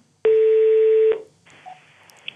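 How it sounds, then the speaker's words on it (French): A single loud, steady telephone keypad tone holds for about a second, followed by a quieter hissing line tone, close and clear. "Appelons Alexandre Bompard tout de suite"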